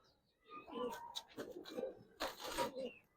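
Female pigeons of a black-necked pair coo softly in a loft, several low, close calls in a row with a few faint chirps and a voice nearby.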